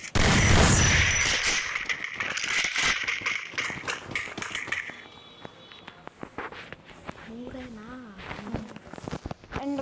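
Gunfire in the mobile battle game Free Fire sounds as sharp repeated shots and clattering bursts, loud at first then thinning into scattered cracks with footsteps, under game effects and a player's voice.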